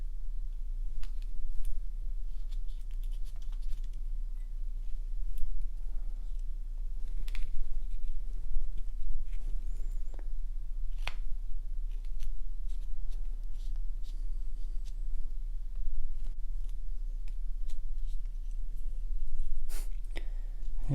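A whittling knife shaves small wood chips from a carved gnome, giving soft, scattered scraping clicks, close and quiet over a steady low hum.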